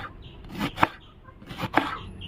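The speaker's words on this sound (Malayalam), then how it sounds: "കാബേജ് ഇതേപോലെ നല്ല കനം കുറച്ച് തന്നെ അരിഞ്ഞെടുത്തോളൂ കേട്ടോ" A knife slices cabbage thinly on a board, giving two short bursts of crisp cutting strokes close by with pauses between them.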